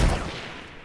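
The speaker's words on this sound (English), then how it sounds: "pull out your sniper and snipe him" Single sniper rifle shot in Fortnite, a loud close boom that decays quickly into a short rumbling tail, heard alone.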